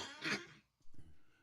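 A single rough cough with a throat-clearing quality, close and fairly quiet, followed by a short softer rasp.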